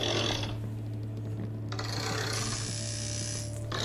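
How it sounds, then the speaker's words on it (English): A fantasy tattoo machine with a clockwork element hums steadily, while ticking, ratcheting gear sounds and faint rasping mechanisms run over it, with a bright metallic whir joining partway through, close and continuous. "You can hear the normal kind of elements of a tattoo machine, plus a clockwork element to make sure it's enough fantasy."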